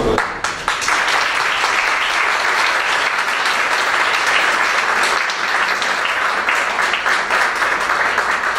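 An audience at an awards ceremony for global leaders in Buenos Aires breaks into loud, steady applause, many hands clapping continuously and close for the full stretch with no talk on top.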